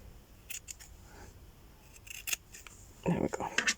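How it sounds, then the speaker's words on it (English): A few quick scissor snips close by, crisp and brief, with quiet handling sounds and a soft thump near the end. "I'll just cut that with the scissors."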